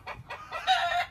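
Chickens at an animal sanctuary with a garden give three quick, close clucks followed by a longer, drawn-out squawking call, clear and unaccompanied by talk.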